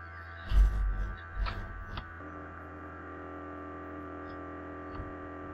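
Small motors in a homemade laser spirograph pattern generator hum with a thin, steady electrical whine, after a few dull knocks and thumps at the start.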